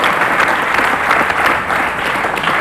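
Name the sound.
applause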